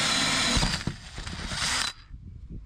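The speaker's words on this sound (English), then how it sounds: "we're gonna drill the new hole for the new style of vent" A power drill bores a hole through a Mako 171cc boat's hull for a new fuel vent, a loud high whine that bogs and grinds as it cuts, then stops abruptly, leaving faint handling clatter.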